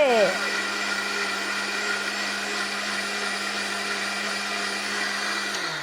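A kitchen mixer grinder whirs continuously as a mother grinds ingredients at home, a loud steady motor drone starting with a brief spin-up and holding throughout.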